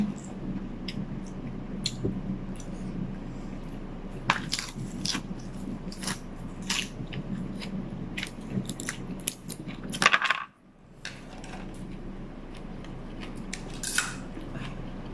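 Someone eats snails with spicy papaya salad made with fermented fish and pickled rock crab, giving close, repeated crunchy bites, clicks and wet squishing noises at an irregular pace, with no talk.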